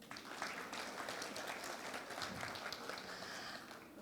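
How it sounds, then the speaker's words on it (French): An audience at a book club event applauds a guest, with steady, fairly faint clapping running throughout. "Je vous demande de l'applaudir."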